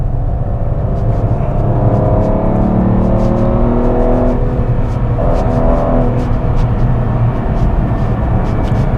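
A 6-liter V12 engine in an Aston Martin Rapide drones loudly and continuously close by, with a smooth rising and falling engine note, as if accelerating while driving; no talking.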